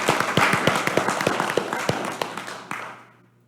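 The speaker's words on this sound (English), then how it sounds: "I'd like to ask everybody to give her a round of applause" Applause from a council meeting audience honoring a departing staff member: a modest room of people clapping with distinct individual claps, fading out after about three seconds.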